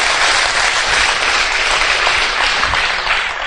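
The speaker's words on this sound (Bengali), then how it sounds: "সো আমাদের ক্রস লাইনদের উদ্দেশ্যে একটা বিরাট হাততালি" Loud, dense applause from an audience, steady clapping that fills the whole stretch without a pause.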